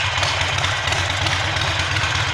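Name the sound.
Harley-Davidson motorcycle engine idling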